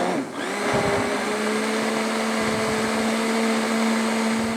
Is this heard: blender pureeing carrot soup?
yes